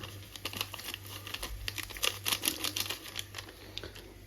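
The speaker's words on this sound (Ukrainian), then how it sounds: "Тепер засипаємо те, що в цьому пакетику сюди." A packet of Buldak noodle seasoning crinkles and rustles as its powder is poured out, giving close, irregular crackling and ticking sounds over a steady low hum.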